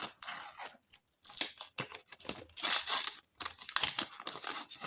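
Close crinkling and tearing of thin plastic in short bursts with brief gaps between them.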